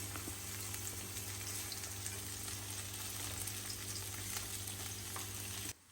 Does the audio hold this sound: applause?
no